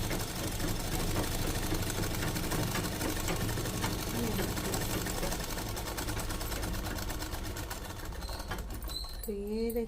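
Electric sewing machine running steadily while stitching lehenga fabric in a boutique, a continuous dense whir filling the clip, slowing near the end, with someone talking over it.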